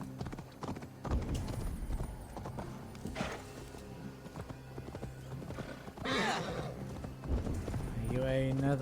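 A horse in Assassin's Creed Valhalla, its hooves clip-clopping in rapid rhythm with a couple of whinnies, while someone talks over the game sounds.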